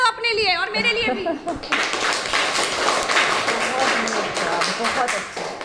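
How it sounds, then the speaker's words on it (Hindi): Children in a madrasa in Lucknow break into a burst of hand clapping that carries on steadily for several seconds, following a brief stretch of speech. "ताली बजा दो अपने लिए और मेरे लिए भी"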